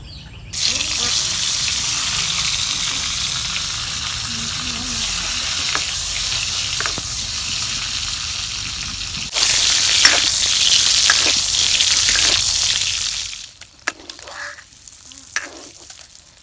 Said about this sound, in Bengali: ডিম ভাজা হয়েছে এখন নামিয়ে নেব